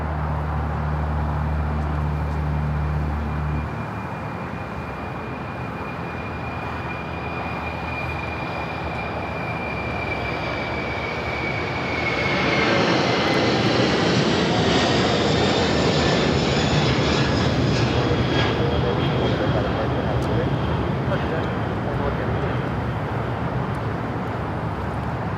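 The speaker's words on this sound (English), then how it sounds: "We have that Apex Logistics Queen now rolling on 25 left, taking off to Seoul" An Apex Logistics cargo jet rolls for takeoff on runway 25 left at LAX, bound for Seoul; its engine roar starts moderate and distant, then swells into a broad, loud rumble with rising whine as the aircraft accelerates past.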